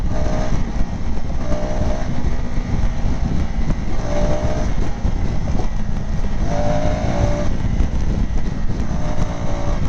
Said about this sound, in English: Even the engine note is good. Exhaust note is also pretty good.